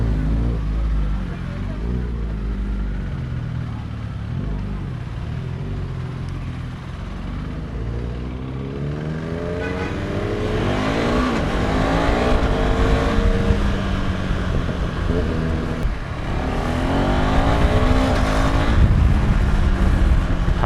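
Traffic including Audi, BMW and Mercedes-Benz cars passes along a road, engines droning and building into rising revs as vehicles sweep by, the roar growing louder toward the end with voices underneath.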